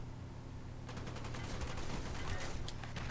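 Gunfire in the video game Call of Duty Black Ops during online play: a fairly faint, rapid burst of automatic shots that keeps up for a couple of seconds after a quiet start.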